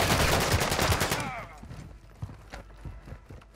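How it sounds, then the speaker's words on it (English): Rapid gunfire bursts from a DMZ-style video game firefight, dense automatic shots crackling loud for over a second, then trailing into sparser scattered reports and faint footsteps at lower level. "Somebody above was shooting me there"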